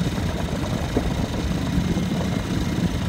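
A boat engine motors steadily into strong wind of about 20 mph, a continuous low rumble blended with wind buffeting, close and moderately loud throughout, with no talk.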